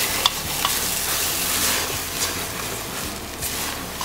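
Food fries in a pan over a fire while being stirred, a loud steady sizzle broken by scraping and small clinks, no talking.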